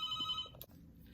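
A hospital room telephone rings with a bright, warbling electronic trill, close and fairly loud, cutting off after one burst.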